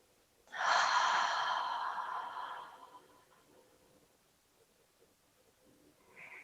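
Slow yoga breathing in a calm flow session: one long, breathy exhale rises suddenly and fades over a couple of seconds, followed by quiet stillness with a faint breath near the end.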